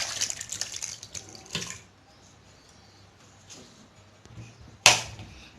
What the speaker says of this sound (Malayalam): ഇത് ജാറിലേക്ക് ഒഴിച്ചു കൊടുക്കാം.